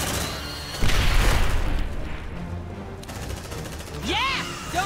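A grenade blast and gunfire in the video game Aliens: Dark Descent, with a heavy boom followed by a dense rumble of firing, then a rising electronic whine near the end.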